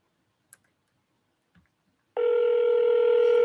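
Phone placing a call: a couple of faint clicks from tapping, then a steady tone begins and holds, close and clear with no talking.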